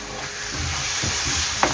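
Tomato puree being stirred into frying masala in a pan for egg curry, a steady broad sizzle and hiss with soft scraping stir strokes and a small clink near the end, no talking.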